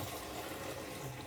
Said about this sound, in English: just start washing up simultaneously, so we don't have too much work to do afterwards.